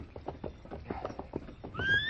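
A horse walking in an old-time radio Western, a steady clip-clop of hooves close by, ending with a short whinny, with no talk.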